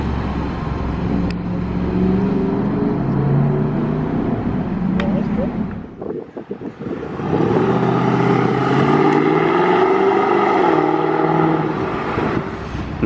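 An Audi RS6 drives past on a street in Monaco, its engine note building to a loud, steady roar and then fading, with a short lull between two passes.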